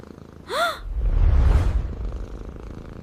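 A cat gives one short, rising meow, then a low, rumbling purr-like breathing follows for a couple of seconds. It is close and moderately loud, with no voices.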